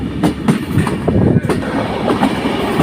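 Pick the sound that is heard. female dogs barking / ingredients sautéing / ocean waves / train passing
train passing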